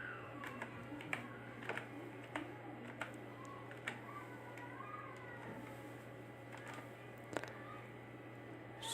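Typing on a computer keyboard in a quiet room, scattered key clicks in short bursts at moderate distance under a steady low hum, with no talking.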